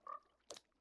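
A frog in Minecraft, played in the FTB Skies 2 modpack, gives a faint short croak followed by a brief raspy burst, with nothing else around it.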